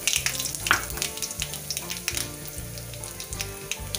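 Dried whole red chillies hitting hot oil with cumin for a mixed vegetable curry in a kadhai, a close crackling sizzle with quick pops over a steady hiss, while background music plays underneath.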